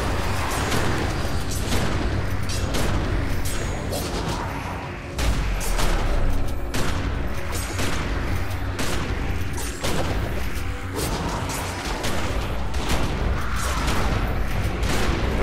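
Turret gunfire in The Secret World, a dense continuous barrage of loud booming shots and bursts that runs throughout with no let-up, heavy low-end impacts layered with sharp crackling reports.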